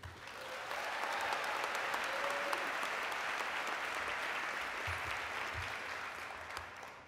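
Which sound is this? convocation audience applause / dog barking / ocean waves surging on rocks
convocation audience applause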